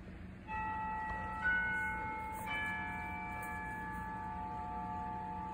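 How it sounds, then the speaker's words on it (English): A doorbell rings in two faint, bell-like chimes about two seconds apart, each ringing tone lingering and slowly fading over a soft background hum. "The doorbell rings again."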